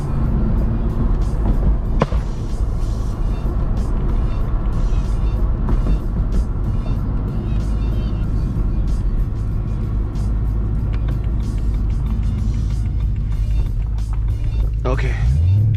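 A BMW E90 M3 drives a canyon road, its engine a loud, steady drone from inside the car. Someone talks over the engine noise, and a louder rise comes near the end.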